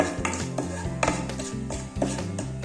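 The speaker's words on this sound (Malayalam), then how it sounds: "എല്ലാം കൂടി നന്നായിട്ടൊന്ന് മിക്സ് ചെയ്ത് കൊടുക്കാം." Turmeric being stirred into a raw mango pickle mixture in a pan, with a spoon scraping and clinking against the metal in repeated strokes, close and fairly loud, no talking.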